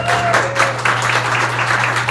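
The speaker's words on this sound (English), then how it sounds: "Can we please give a beautiful, amazing, Texas-sized, bigly round of applause for our first speaker?" Conference audience applauding a speaker: loud, dense, continuous clapping from a large crowd, steady throughout.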